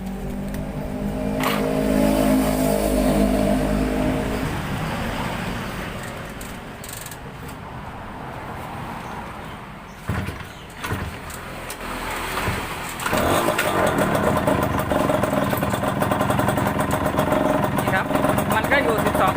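A vehicle engine cranks and starts, then runs with a steady rumble that rises as it revs; the vehicle is being checked for its electrical charging system, and a voice speaks over parts of it.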